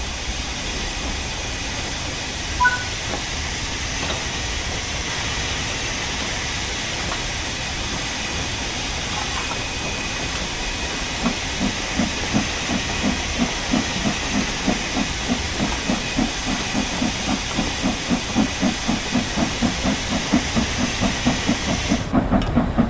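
A steam locomotive in the Train Sim World 5 game gives off a steady loud hiss throughout, and a rhythmic chuffing and clacking builds in the second half as the engine picks up speed.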